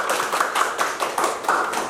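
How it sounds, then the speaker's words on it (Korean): An audience at a lecture on human anatomy claps to welcome the lecturer, a moderate, slightly distant patter of hands with a few louder beats standing out in a steady rhythm. "큰 박수로 맞아주시겠습니다"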